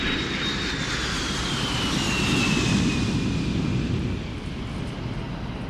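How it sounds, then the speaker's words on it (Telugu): An airplane takes off from a runway, its engines a loud, sustained roar with a gradually falling high whine layered over a broad rumble, steady and close. "ప్లేన్ నెమ్మదిగా రన్వేపై స్పీడ్ అందుకుంది. నెమ్మదిగా టేకాఫ్ అయ్యి ఆకాశంలోకి దూసుకుపోయింది."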